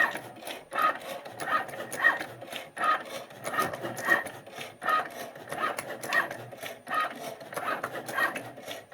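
A cutting machine works through thin aluminum sheet, making faint, rhythmic rasping and scraping strokes that repeat roughly every second with small high-pitched squeaks, quiet and close.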